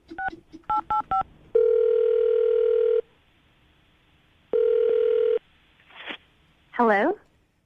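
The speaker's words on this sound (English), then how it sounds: "I'm going to dial the phone number right now" Several quick dialing beeps, then a long steady ringback tone, a pause, and a second tone, followed by a brief voice at the end.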